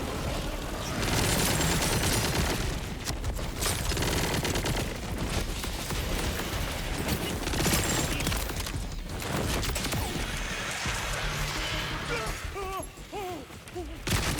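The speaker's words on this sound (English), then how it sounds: "I'll let these turrets do the aiming for me." Automated turrets in Borderlands 4 keep up dense, relentless gunfire alongside explosions and crashes, loud and continuous throughout with only brief dips near the end.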